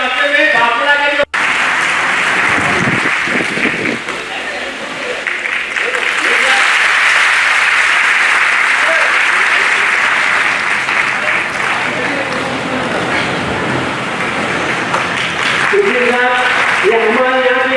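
Sustained applause from a large audience at an award ceremony, steady and loud clapping lasting many seconds, with a brief voice before it starts and murmurs as it fades at the end.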